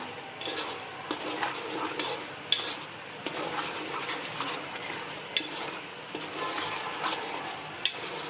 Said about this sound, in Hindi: 2 से 3 मिनट के लिए अच्छी तरीके से इसको भून लेंगे